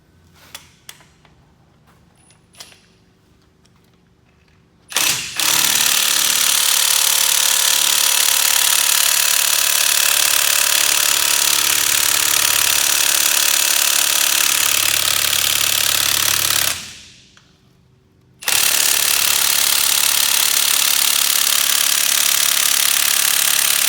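A 1/2 inch impact gun driving through a 3/8 adapter, tested on a Tite-Reach Pro, hammers loudly and close in two long sustained bursts, the first about twelve seconds, then a brief pause before it starts again.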